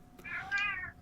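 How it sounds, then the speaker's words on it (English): A chatty pet cat lets out a single drawn-out meow, fairly close and moderately loud in a quiet room. "apologies to anyone that can hear my cat."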